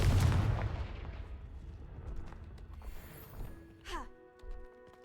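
A Confringo blasting spell explodes in a Harry Potter video game: a heavy booming burst right at the start that rumbles and fades, followed by fainter magical swishes and tonal effects.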